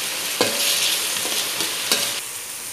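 Onions frying in a pan for chicken gravy, a continuous close sizzle broken by a few sharp scrapes and clinks of a spoon stirring, with no voices.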